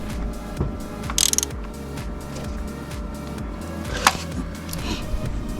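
Ratcheting and mechanical clicks from a wrench slowly tightening thermostat housing bolts on a 2009 Jeep Patriot, with brief bursts of rapid clicking and an occasional sharp metallic tap, close by and moderately loud.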